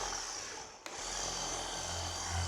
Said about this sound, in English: I'm dry buffing here.